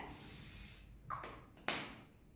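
Several short hissing bursts of a spray bottle, one longer spritz followed by two quick sharp sprays, close and quiet.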